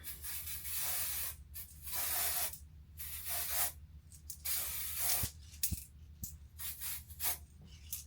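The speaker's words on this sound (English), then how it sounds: "I'm gonna use my wig tint and just spray it a little bit." Several short bursts of wig tint aerosol spray hiss close by, separated by pauses, with a few small clicks from the nozzle in between.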